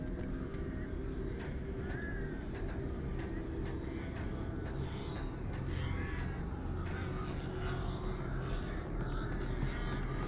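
Crows caw over steady rumbling ambience in the video game Alan Wake Remastered, several harsh calls scattered across the scene at moderate distance.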